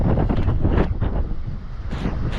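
Strong typhoon wind gusts roaring and buffeting the microphone around a flooding dorm, a loud, continuous rush that swells and dips without letup.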